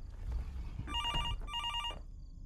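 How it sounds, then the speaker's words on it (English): A telephone rings in two short bursts of a trilling electronic bell, fairly close and clear, over low background noise inside a vehicle during a long drive. "My phone's ringing."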